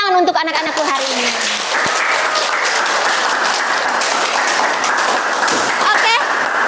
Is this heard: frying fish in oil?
no